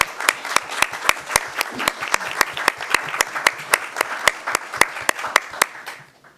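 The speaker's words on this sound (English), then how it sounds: "everyone you mentioned deserves a big applause." Applause at a school board of trustees regular voting meeting: a steady run of sharp, regularly spaced claps over a broader wash of crowd clapping, fairly close and loud, fading out at the end.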